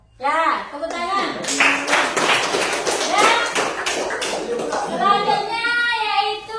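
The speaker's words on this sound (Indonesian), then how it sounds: "Ya, tepuk tangan." Children in a classroom clap their hands together in a quick, rhythmic burst of several seconds, close and lively, framed by a teacher's voice before and after the clapping.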